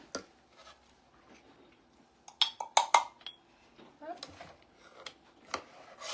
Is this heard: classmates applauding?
no